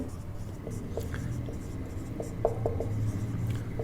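Pen writing on paper during a class 8 maths lesson, soft scratchy strokes and small taps close by, quiet and steady with faint background murmur.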